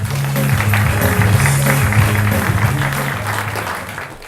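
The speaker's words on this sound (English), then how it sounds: "Give him a round of applause." Studio audience on a television chat show applauds a guest, a steady wash of clapping running beneath a loud repeating low musical figure for the whole stretch and easing slightly near the end.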